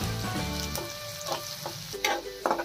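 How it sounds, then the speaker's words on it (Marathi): Onion frying in hot oil for bread pakora, a steady close sizzle with a few sharp crackles and stirring clatters partway through. "आता आपला हा कांदा छान गोल्डन ब्राउन कलर येईल तोपर्यंत तेलात तळून घ्यायचा।"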